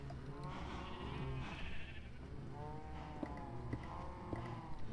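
Sheep in the video game Minecraft, several repeated wavering bleats in quick succession, clear and close over a low background hum.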